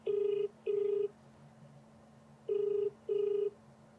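Telephone ringback tone for an outgoing call, four steady electronic burzzes in two pairs with a pause between, heard clearly over a low continuous hum with no one speaking.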